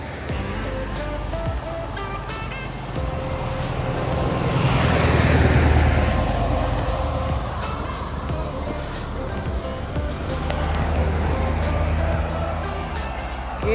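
Cars passing along a roadside, a continuous traffic rumble that swells as a vehicle passes close and then eases, with wind noise throughout.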